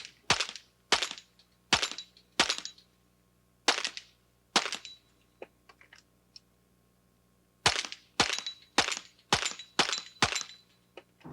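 Rimfire rifle shots fired at targets during a timed precision rimfire event in a 1997 shooting team competition: sharp, loud cracks come in quick bursts of four or five, with a pause in the middle before another rapid string.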